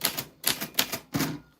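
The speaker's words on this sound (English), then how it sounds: "this is a traveling typewriter from 1949, and it has no electronics" Keys striking on a 1949 mechanical traveling typewriter with no electronics, four sharp clacking bursts in an uneven rhythm, close and fairly quiet, with no voices.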